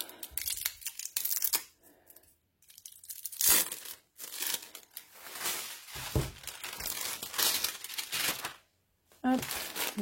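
Plastic packaging of a diamond painting canvas crinkles and tears up close, loud rustling in bursts with brief pauses, and a few short spoken words in between.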